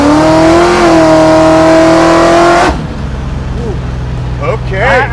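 A garage-built supercharged stroker Mustang drag car accelerates hard, its loud engine note climbing steadily in pitch for a few seconds before cutting away to a lower, distant rumble as people talk over it.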